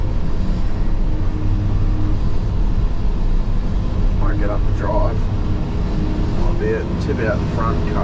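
A Volvo ECR88 Pro excavator cutting a site drones with a constant low engine hum and steady mechanical noise close by, while someone talks intermittently over it.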